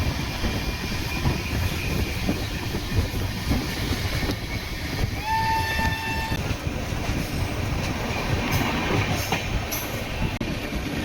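Pallavan Superfast Express running on rails between Karaikudi and Chennai Egmore: a steady, loud rumble of wheels and carriage noise continues throughout, with a brief whistle-like tone rising near the middle and no talk.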